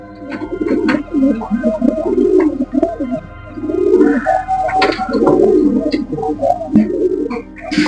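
Kaldum pigeons in a loft with newly hatched chicks give loud, close, rolling coos in repeated bursts of a second or two, with little pause between them.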